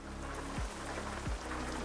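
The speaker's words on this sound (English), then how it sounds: "We got the rain." Rain patters steadily in a European truck driving simulator game featuring a Volvo truck, over a low droning engine hum with two brief low swooshing thumps.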